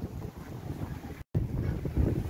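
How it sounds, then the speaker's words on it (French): Steady wind buffets the microphone aboard a Sun Odyssey 35 sailboat heeling under sail near Gruissan, with a broad continuous rush and water wash and a momentary dropout midway. "il y a du vent au rendez-vous"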